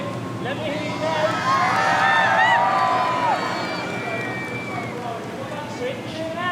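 Spectators at Beaulieu Supercar Weekend cheer and yell for a V12 Lamborghini, a loud surge of whoops and shouts that peaks early and then fades into a lingering murmur of the crowd.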